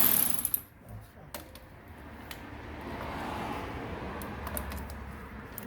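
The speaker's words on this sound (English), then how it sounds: "Come on, do it with a wrench." A hand wrench ratcheting on a 7mm bolt while a K03s turbo is fitted to an MK4 GTI / Jetta; faint, close mechanical clicks and turning sounds come in short bursts over a quiet garage background.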